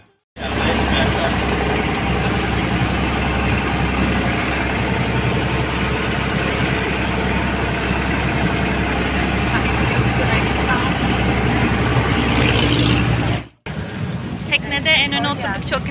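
A steady, loud boat engine drones continuously on a river tour at Ağva, then cuts off abruptly near the end, leaving quieter background noise.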